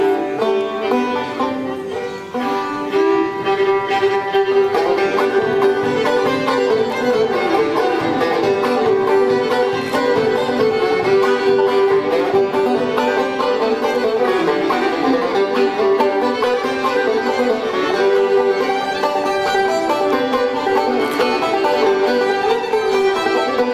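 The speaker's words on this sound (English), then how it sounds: "Here's an old-time fiddle tune," Live string band at a bluegrass festival plays the old-time fiddle tune Putting Up the Wood, with fiddle melody over strummed rhythm, steady and lively throughout without any talking.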